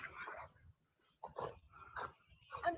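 A dog barks and whimpers in a played-back recording made in Central Park, coming in short, uneven bursts mixed with a voice talking.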